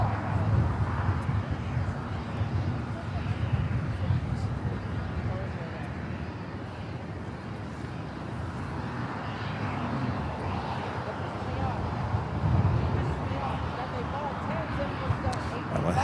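A KLM airliner taxis at LAX toward the west side gates, a steady broad jet engine rumble and whine holding close and fairly loud throughout, with wind buffeting the microphone.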